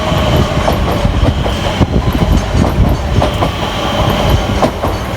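A Greater Anglia train runs past on the fast line of the Great Eastern Main Line, loud and close, its wheels clattering in a rapid rhythm over the rail joints with a rushing rumble underneath.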